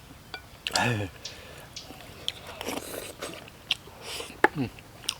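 Close-up eating of chili with fermented cow placenta soup, with soft biting, chewing and slurping sounds broken by murmurs and hums from the eater, a few sharp clicks scattered through.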